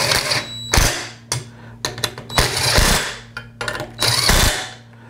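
A power gun tightens bolts on the headlight motor bracket of a 1991 Acura NSX, with several short bursts of whirring and rattling spread across the clip, close and fairly loud, broken by brief pauses.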